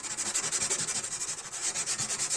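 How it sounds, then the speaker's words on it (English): Steady rhythmic rubbing of abrasive paper on a steel knife blade made from a saw blade, a fast repeated back-and-forth scratch, close and continuous. "Fine sanding"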